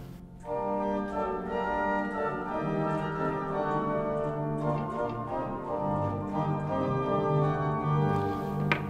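Hinsz pipe organ in the Bovenkerk at Kampen sounds a three-foot stop in a full, sustained chordal passage, a dense steady tone filling a large reverberant church, with no voices.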